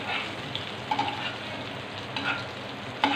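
Whisked egg mixture cooks gently in a pan over a low flame for a street-style egg sandwich, a soft continuous sizzle with a few light taps and scrapes.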